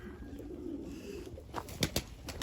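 Local and Iranian pigeons cooing, soft low coos with a few brief sharper calls and a hint of wing movement near the end, fairly faint and close.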